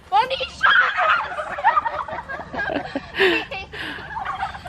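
Turkeys on a small farm gobble in rapid, rattling bursts, close and fairly loud, repeating in uneven clusters across the whole stretch.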